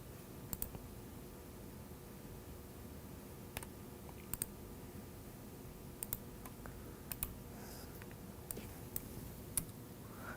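Sparse, faint computer mouse clicks, single and paired taps spaced irregularly over a low steady background hum.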